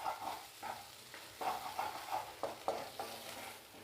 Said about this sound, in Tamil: நம்ம இதை நல்லா கிளறி விடுவோம்.